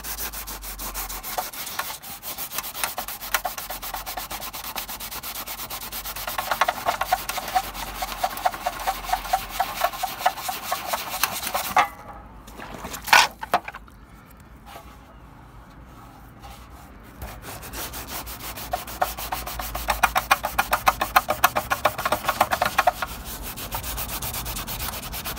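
Hand sanding of rusty bicycle metalwork such as a chainguard and mudguards, heard up close as rhythmic back-and-forth rasping strokes with a brief pause midway before the scrubbing resumes.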